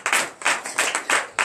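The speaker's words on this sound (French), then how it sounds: "Donnez l'acclamation à Jésus." Rhythmic hand clapping in acclamation of Jesus at a morning prayer service in Benin, five or six sharp, even claps close by with no voice over them.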